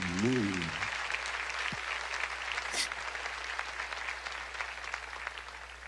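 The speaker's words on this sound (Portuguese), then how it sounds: "Aplauda o Senhor." Crowd applause at a church service in Curitiba, steady and somewhat distant, following a brief voice at the start, clapping continuing evenly to the end.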